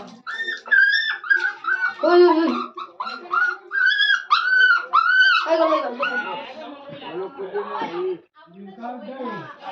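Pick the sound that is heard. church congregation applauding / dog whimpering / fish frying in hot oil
dog whimpering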